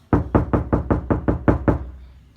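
Eight evenly spaced knuckle knocks on a bare, uncovered car driver door with no sound deadening, each one loud, hollow and resonant, close up with nothing else heard.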